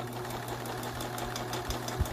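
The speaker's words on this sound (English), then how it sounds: "needle down, presser foot, rotate, and this is your last stitch before you are done with your complete mask." A sewing machine stitching a fabric face mask runs with a steady, fairly quiet mechanical whir and fast rhythmic needle ticking throughout, with no talking.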